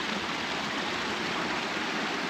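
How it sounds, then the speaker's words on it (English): A forceful backyard waterfall, its pumps running, pours with a steady, loud, broadband rush that never changes. "Really forceful waterfall with all the pumps running through here"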